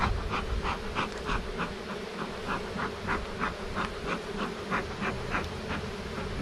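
Honeybee colony buzzing steadily during a hive inspection ahead of swarm season, a dense, loud, continuous drone with wavering pulses throughout, no voices.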